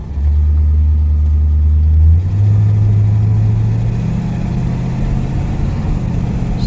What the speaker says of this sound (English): This is first test drive,